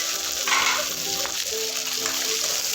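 Pork fries in a pan with oil rendering out, giving a steady bright sizzle and faint stirring scrapes throughout, no talking.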